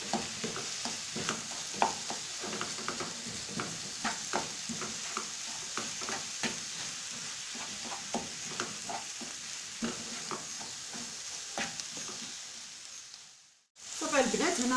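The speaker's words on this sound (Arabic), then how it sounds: "نشحر الدجاج مزيان" Chicken frying in a pan: a constant close sizzle with frequent scraping and clacking strokes of a stirring utensil, steady for most of the time before briefly cutting out and returning near the end.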